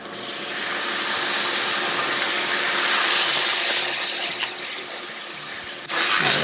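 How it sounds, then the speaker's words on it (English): Broad steady hiss of a hot pan being deglazed with Sauvignon Blanc over shallots, loud and continuous for several seconds before easing, with a brief fresh burst of sizzle near the end; no talking. "Some Sauvignon Blanc. Deglaze this pan."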